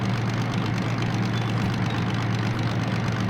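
A DM3 diesel locomotive engine in the Derail Valley train simulator drones steadily with a low, heavy rumble, loud and continuous as it runs down in speed, with no talk over it.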